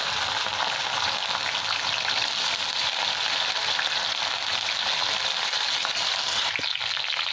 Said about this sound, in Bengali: এবার ভিন্ডিগুলো ভেজে নিচ্ছি আমি।